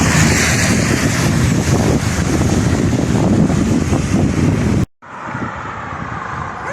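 Strong, cold, rainy wind buffets the microphone of a touring cyclist near Tarsus, Turkey, in a loud, steady roar, then cuts out briefly before a quieter rushing wind resumes.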